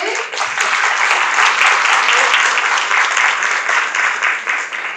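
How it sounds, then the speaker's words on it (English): Sustained applause from a conference audience at an early-childhood education event, a dense, steady wash of many hands clapping close and loud for the full length, with no pauses. "Can I give you a round of applause?"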